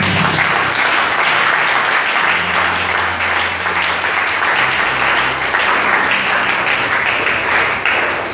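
A church congregation applauds loudly in a thick, sustained wave of clapping that fills the room and holds at full strength throughout, with a low murmur running underneath.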